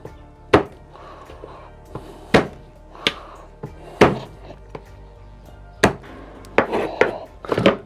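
Garlic is crushed and then coarsely chopped with a knife on a board while a potée is prepared, giving several sharp, close wooden thunks at irregular intervals with quiet pauses between them.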